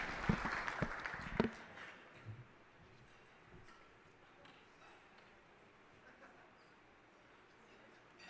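An audience claps for award winners at the 38th annual Secretary's Golden Shovel Awards ceremony. A burst of applause fills the first second and a half, then fades quickly into a quiet room with faint murmurs.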